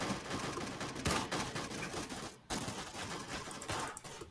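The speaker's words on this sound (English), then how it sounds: "I shot that dude so many times with a machine gun" Machine gun fire in the Roblox shooter Arsenal, with dense rapid bursts of crackling shots that run nearly continuously, broken by one short gap midway, at moderate volume.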